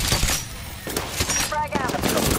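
Gunfire in a shooter video game with grenades and recharging shields: several sharp bursts of shots mixed with game effects and a brief ringing tone, under a busy, loud soundscape.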